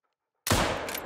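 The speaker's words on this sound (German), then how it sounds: "Ich glaube, dass der Schuss gar nicht so schlecht war." A single .30-30 rifle shot in the hunting game theHunter: Call of the Wild cracks out of near silence, loud and close, then rolls off into a fading echo.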